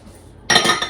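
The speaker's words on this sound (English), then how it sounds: "Give that a good whisk." A whisk clatters briskly against a bowl as an oil and egg mixture is beaten into yeast for cinnamon roll dough, starting abruptly after a quiet moment and continuing as close, busy metallic clinking.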